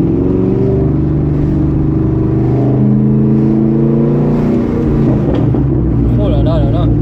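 Chevrolet Corvette C6 V8 engine revving, a loud close rumbling roar that rises and holds with layered harmonics, someone talking over it toward the end.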